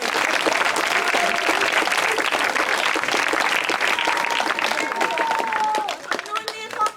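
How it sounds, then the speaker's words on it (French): Theatre audience applause at the close of an amateur play in Saint-Florent, dense sustained clapping filling the hall while a sung melody rises faintly through it, thinning out near the end. "on applaudit"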